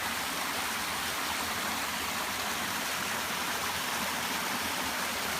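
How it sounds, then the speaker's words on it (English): A small waterfall spilling into a pond on a rural property shaded by live oak and cedar, a steady broadband rush of falling and flowing water, constant and even throughout with no voices. "Just a gorgeous little waterfall"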